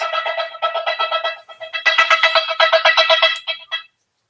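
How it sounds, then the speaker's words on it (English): A phone ringtone for an incoming call chirps in quick repeating bursts of bright trilling tones, pausing briefly before a second longer run, then cutting off. "Now I'm getting a phone call."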